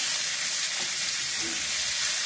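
Fish frying in a pan, a dense, steady hiss of hot oil close by, with a faint stir or two underneath.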